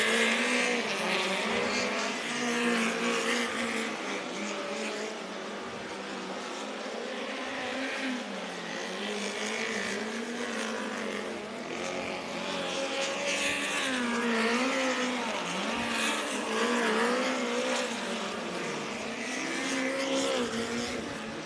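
IRA sprint race cars roar around the Angell Park Speedway dirt oval, a loud, continuous engine drone that rises and falls as the cars circle, with no pauses.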